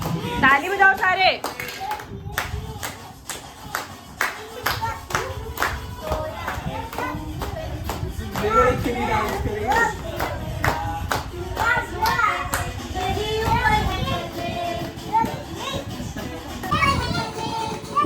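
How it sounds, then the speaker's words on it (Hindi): A family claps hands together at a child's second birthday party, a steady run of fast, close claps lasting throughout with children's voices and chatter underneath. "ताली बजाओ सारे"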